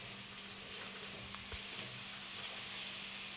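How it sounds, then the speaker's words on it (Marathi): Onion frying in hot oil with ginger-garlic paste gives off a faint, steady sizzle and crackle, with occasional soft stirring pops and no talking. "सगळं वाजते तेलात चांगलं"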